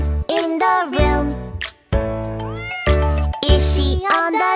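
Repeated meows from a cat, several drawn-out, pitch-sliding cries in quick succession, loud and close with short pauses between them.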